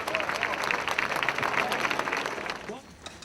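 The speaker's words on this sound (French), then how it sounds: "vous pouvez les applaudir très fort" Spectators lining the Lausanne marathon course applauding runners, a lively burst of outdoor clapping and crowd noise that holds strong, then fades toward the end.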